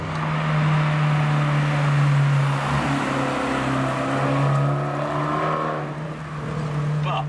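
An Abarth 695 Anniversario moving fast, its engine droning with a steady, close, loud hum and rising harmonic tones as it accelerates, with no voices over it.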